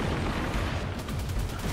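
Gunfire in the video game Destiny 2, a dense, continuous barrage of overlapping shots and booms, loud and close, with no talking over it.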